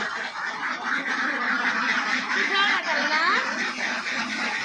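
Ducks in a flock of about 250 laying ducks quack loudly and continuously at close range, overlapping calls forming a dense chorus.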